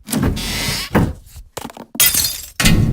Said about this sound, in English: Glass breaking, vents.